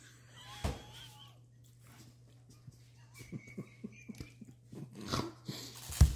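Crunchy toast topped with mushy peas being bitten and chewed up close, a series of short irregular crunches with quiet pauses between bites.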